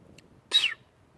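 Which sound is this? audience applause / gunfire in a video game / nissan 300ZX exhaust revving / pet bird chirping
pet bird chirping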